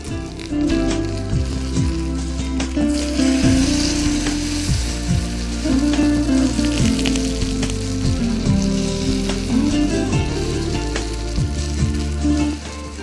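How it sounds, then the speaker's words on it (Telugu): Snacks crackle and sizzle in hot oil in a pan on a cooking show, a continuous close, bubbling fry with pops and brief stirring sounds and no talk. "సో చూస్తున్నారు కదండి ఎంత చక్కగా ఇవి ఫ్రై అవుతున్నాయో."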